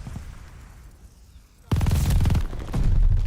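An MG42 light machine gun firing in Call of Duty: Vanguard, a loud close sustained burst that starts abruptly after quieter game ambience and continues with a brief break.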